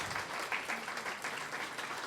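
A church congregation applauds in a dense, steady patter of many hands clapping at once. The sound is moderately distant and fills the whole short stretch with no pause.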